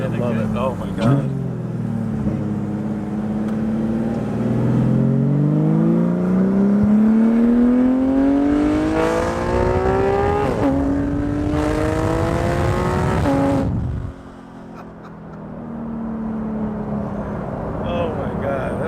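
A straight-piped Porsche GT3 RS engine revs loudly and climbs steadily through rising pitch sweeps, then cuts off sharply near the end before settling to a lower drone, with a person's voice faintly present beneath.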